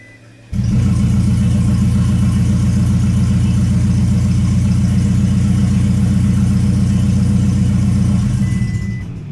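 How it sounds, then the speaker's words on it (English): A freshly rebuilt 2004–2009 Toyota Prius engine turns over and runs steadily for about eight seconds with its exhaust disconnected, a raw, unmuffled droning rumble that starts abruptly and stops near the end. "it just spun the engine over, and then two, let us know that we forgot to hook our exhaust back up"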